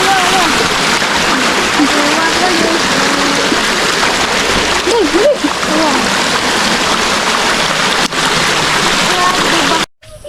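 Strong floodwater current rushing through a swollen creek during a search for a drowning victim, a loud continuous roar with sloshing and splashing throughout, voices talking over it, and a sudden cutoff at the very end.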